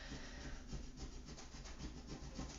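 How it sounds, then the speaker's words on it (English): A scraper is rubbed firmly over a Cricut vinyl decal lying on a cutting mat, making a steady, close, rasping scrape that runs without a break and with no talking. "take my scraper, and really give it a good scrape"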